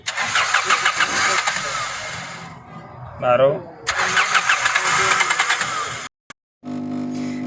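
A Toyota Corolla engine cranks repeatedly without catching, with long harsh bursts of starter noise broken by a short pause and a shouted word, then more cranking before an abrupt cutoff.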